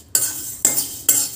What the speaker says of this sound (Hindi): तो भून लीजिए धनिया को लो टू मीडियम